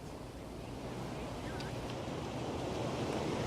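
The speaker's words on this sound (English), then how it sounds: "we are definitely seeing some winds. They're really picking up. Very windy out here." Strong storm wind roars and buffets the microphone at Fort Pierce, a steady, dense rush with surf-like noise and no voices during the gusts.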